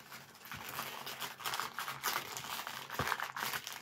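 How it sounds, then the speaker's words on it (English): Masking tape is torn from the roll and crumpled in hand, filling the clip with close, continuous crinkling and rasping tape noise that swells in bursts. "Tear a sizable amount of tape. Take it, sticky side out."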